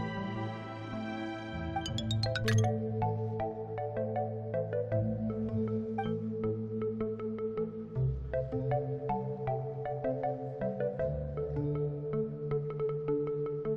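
A musical instrument in need of repair is tried out in a video game, playing a continuous melodic passage of bright plucked and chiming notes over a sustained lower drone.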